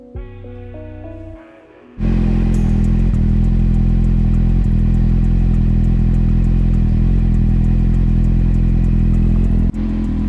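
A 2008 Kawasaki Z750 motorcycle with an Akrapovic exhaust idles steadily after throttle synchronization, a loud, even, close engine drone that begins abruptly after a short musical lead-in.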